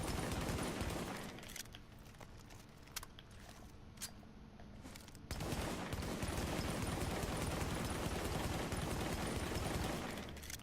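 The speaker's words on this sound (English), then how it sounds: "I just burned through probably like 100 rounds just now" Rapid rifle fire in The Division rattles out as sustained, loud automatic bursts, breaking off into a few sparse single shots for several seconds before a long continuous stream resumes.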